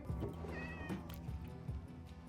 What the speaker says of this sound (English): Okay, there's another cat over here.